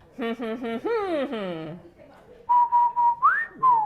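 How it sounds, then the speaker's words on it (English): A person whistles a short bouncy tune of quick notes, then after a pause whistles again with a rising slide and a held tone. "Good whistling"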